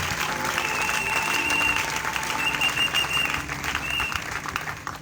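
A church congregation at a special thanksgiving service claps together to acclaim the Lord, producing sustained dense applause in a reverberant hall that fades slightly toward the end.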